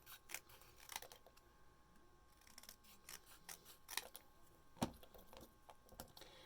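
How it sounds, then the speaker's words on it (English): Scissors cut craft paper from a seaside craft kit into thirds, giving a run of quick, crisp snips close to the listener, quiet overall and without speech. "So I'm going to cut this into thirds."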